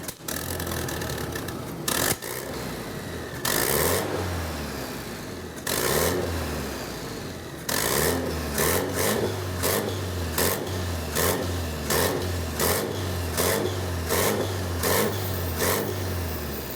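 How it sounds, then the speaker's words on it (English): An engine revs repeatedly in sharp bursts, with pauses between, then settles into a quick series of short, rhythmic throttle blips; loud and close. "we listened to some cool turbo noises"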